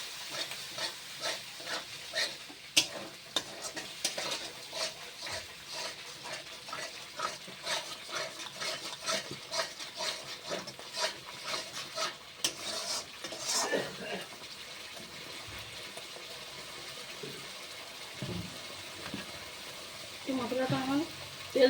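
Spice masala fries and is stirred in hot oil with a splash of water added, giving a steady close sizzle broken by scraping stirs and occasional clinks, with no talking.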